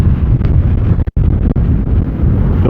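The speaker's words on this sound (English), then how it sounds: "The wind is quite incredible." Strong wind buffets the microphone outdoors during van life travel, a loud, steady low rumble with gusty surges and one brief dropout near the middle, with no voices.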